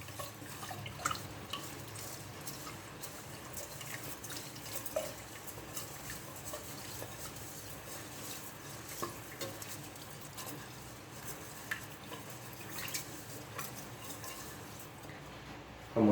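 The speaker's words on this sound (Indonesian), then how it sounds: "untuk mencuci nasi sekitar 3-4 kali" Rice being rinsed in water, a faint, continuous swishing and trickling with small splashes and drips, close and quiet.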